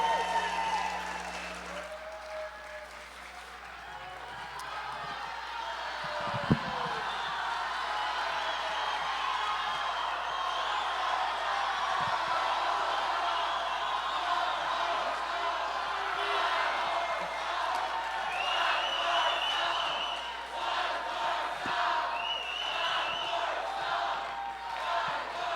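A TED Talks audience cheers, whoops and applauds steadily for an encore, a dense, sustained roar of crowd noise with claps and shouts that holds at a fairly even level throughout.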